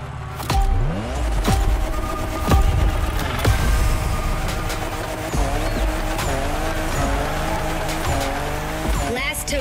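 A 2021 Toyota Super Drift Edition drifts in the racing game The Crew Motorfest, its engine revving loud and continuous with repeated tire squeals and skids, and rising and falling pitch sweeps as the car slides through a run.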